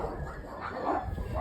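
Dogs at a stud kennel bark and yip in short, uneven bursts at middle distance, over a steady background hum with no one talking.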